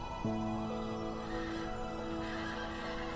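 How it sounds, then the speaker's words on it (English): Wild horses on open Mongolian plains: one whinnies loudly with a long, wavering neigh, while galloping hoofbeats and a steady rumble run underneath throughout. "Wild horses gallop freely in the immensity."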